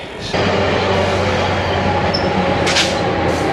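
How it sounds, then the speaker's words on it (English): A train rumbles past nearby, a loud steady roar with rattling and a brief high squeal, no voices. "There's the Saturday morning train service."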